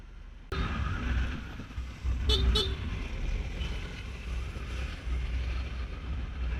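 Two short horn toots from a Honda Dio scooter sound close together amid a steady rumble of Istanbul traffic and wind buffeting the microphone.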